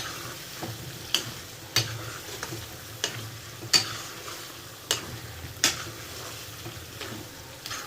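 Chicken frying in a pan with coriander, stirred with a spoon: a steady sizzle under repeated sharp scraping taps at an uneven pace, close by.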